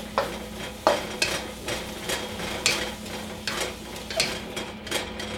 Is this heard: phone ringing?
no